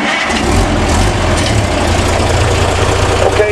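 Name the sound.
rat rod engine starting and idling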